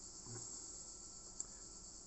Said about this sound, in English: these cicadas are...